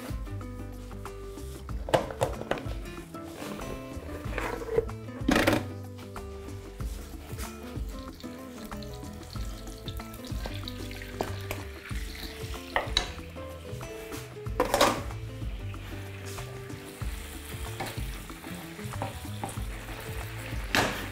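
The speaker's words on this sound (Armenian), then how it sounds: "տապակում ենք կրծքամիսը" Chicken breast sizzling steadily in a hot pan, with occasional scrapes and clinks of a utensil stirring, close and continuous.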